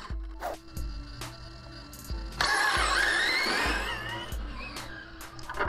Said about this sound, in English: Someone suggested I try doing the burnouts on a piece of carpet to save on the tires.